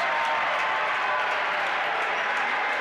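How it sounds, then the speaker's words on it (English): Basketball crowd at a men's college game applauding and murmuring as the energy builds, a steady wash of clapping and crowd noise filling the gym throughout. "this crowd starting to get pumped up a little bit"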